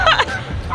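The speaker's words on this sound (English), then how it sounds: "there's a bunch of geese coming" A flock of geese approaches outdoors, giving a brief burst of loud, nasal honks close by.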